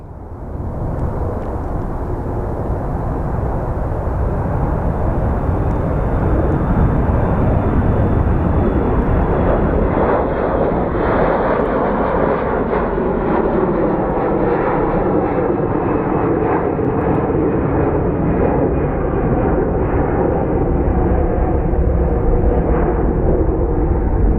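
An airliner departing Phoenix Sky Harbor on a Detroit flight gives a loud, sustained jet roar that stays strong and steady throughout, with a faint high whine sweeping across it, and no talk over it.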